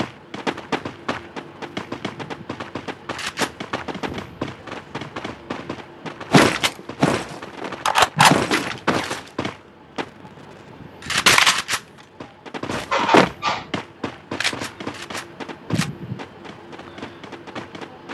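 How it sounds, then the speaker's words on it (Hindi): Rapid automatic gunfire from the Free Fire battle royale video game, loud bursts of machine-gun fire and single shots in irregular clusters with brief pauses between volleys. "उसको कितनी गोलियां चलाई तो भी नहीं मरा"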